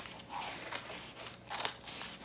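Scissors snipping through paper while cutting out a notched jacket collar pattern, several quiet crisp cuts spaced unevenly, close and soft, with no talking.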